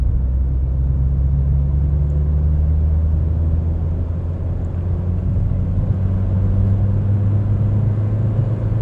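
A Rover CityRover hatchback cruising in fourth gear near the national speed limit, with a steady low engine drone and road rumble filling the cabin at an even pitch throughout.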